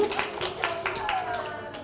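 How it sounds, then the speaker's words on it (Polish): Audience applause for women on stage at a live event, a dense patter of clapping that runs steadily under someone speaking over it. "Brawa dla pań za odwagę przede wszystkim."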